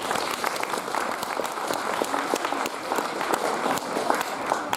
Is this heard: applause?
yes